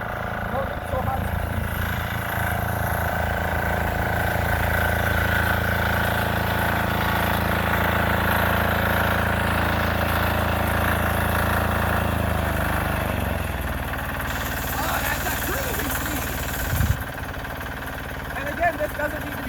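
A China Diesel 6HP single-cylinder engine runs steadily after a cold start at minus twenty with no intake heater, a close, even chugging drone that drops in pitch partway through as the throttle eases, with a brief knock near the end.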